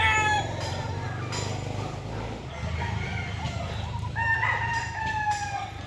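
Young fighting cocks that have never fought crow on a Philippine property. Several overlapping crows rise and fall over steady farmyard clucking and background noise, loud and close.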